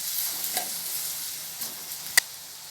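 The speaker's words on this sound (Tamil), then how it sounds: "வெங்காயம் வதங்கி வரட்டும்." Onions and fresh curry leaves sautéing in oil for a carrot stir-fry, a soft steady sizzle with a few light stirring scrapes and one sharp clink, heard alone.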